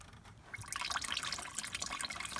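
Water from a coolant flush drains out of a 1993 Chevy Lumina APV, a soft, steady splashing and trickling stream with bubbly spatter, fairly quiet and with no talk.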